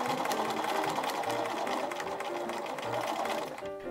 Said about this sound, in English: I begin with the underarm section, sewing with the body of the garment facing up.